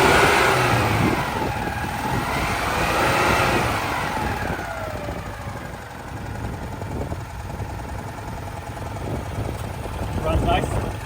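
A restored 1985 Citroen 2CV 6 Club's small air-cooled engine runs with a steady buzzing drone, rising in a couple of revving swells near the start before settling to an idle, heard close with someone talking over it.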